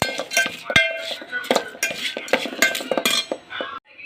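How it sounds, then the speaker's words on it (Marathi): Masala papad chaat is tossed with chaat masala and a homemade spice mix. A spoon stirs against a metal bowl in brisk, close clinks and scrapes, with no talking. "थोडासा चाट मसाला आणि घरचा मसाला थोडासा टाकून देऊया आता ह्याला पण मिक्स करायचं"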